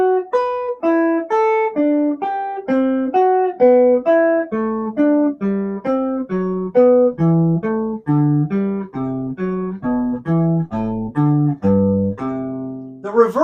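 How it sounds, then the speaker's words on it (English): Guitar plays a line of ascending fourths stepping down the scale, evenly spaced plucked note pairs moving steadily lower, clear and close with no voice over about thirteen seconds. "Coming down the scale with ascending fourths sounds something like this."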